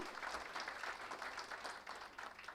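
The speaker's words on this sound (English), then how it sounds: "I think he deserves a round of applause, Akshay Kumar ji" Faint, distant applause from an audience at a government campaign launch event, steady scattered clapping at low level with no voices over it.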